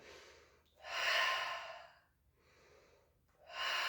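Deep, audible breaths in and out during an advanced Pilates class exercise, with long airy inhales and exhales alternating in a slow, steady rhythm, close and alone with no talking.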